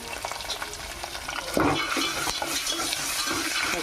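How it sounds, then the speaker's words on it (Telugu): Spices with turmeric fry in a pan, a steady close sizzle and crackle with a sudden louder burst and scraping stirs partway through, no voices. "పచ్చి వాసన పోయేదాకా ఫ్రై చేసుకుందాం."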